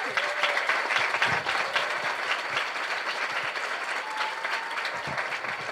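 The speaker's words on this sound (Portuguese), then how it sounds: "eu queria uma salva de palmas realmente para o nosso movimento estudantil" A student assembly of nearly 300 people applauds with sustained, dense clapping that holds steady and fills the room for the whole stretch.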